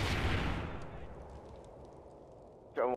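Grenade blast in a Search and Destroy match of a video game: a loud explosion booms up front and rumbles away, then a sharp burst of gunfire cuts in at the end.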